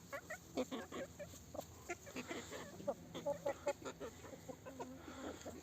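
Chickens cluck in a steady, overlapping chatter with short calls close by, the young birds expected to grow into roosters, with no talk over them.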